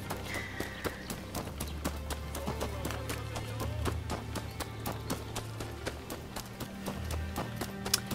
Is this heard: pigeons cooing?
no